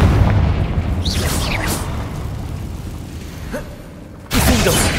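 Confringo fire spell blasting in the video game Hogwarts Legacy, a loud booming explosion that rumbles and fades, followed by a second sharp burst near the end, with a voice casting briefly.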